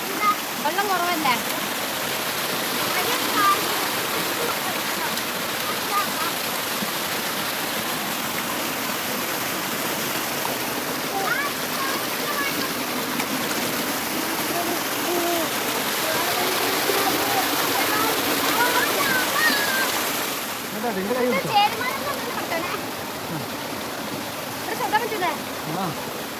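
A waterfall, reached along a snake-infested trail on a family outing, pours heavily with a continuous, close, full roar of crashing water that never lets up, with voices faintly present beneath the rush.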